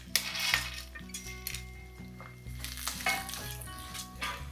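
Raisins go into hot ghee with the stove switched off, a gentle sizzle and light crackling under soft stirring and a few clinks of a spoon against the pan.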